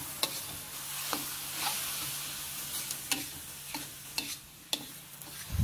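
Pickled bamboo shoots and minced pork stir-fried for a chili paste dish, with soft sizzling beneath a series of sharp spatula clacks and scrapes against the pan every second or so, close by.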